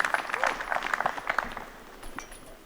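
A golf gallery at the Konopiste Open 2018 bursts into clapping and cheers, a dense burst that fades gradually while a commentator talks over it.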